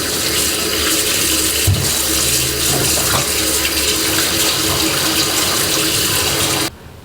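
Running tap water pours steadily and loudly over a gutted, cleaned fish, with shifts in the splash as the fish is turned and rinsed, then the flow cuts off abruptly near the end.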